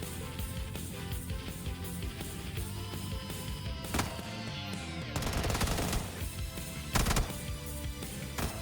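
A Vector submachine gun fires in a shooter game, rapid bursts of gunfire over a busy, layered game soundscape, with a couple of sharper, louder volleys standing out.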